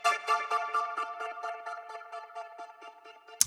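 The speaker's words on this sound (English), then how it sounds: "A higher pitched version that's a bit more choppy to add some rhythm." Higher-pitched electric piano chords played in a choppy, rhythmic pattern, a bright stuttering layer of short repeated stabs that is moderately loud and alone, with no voices.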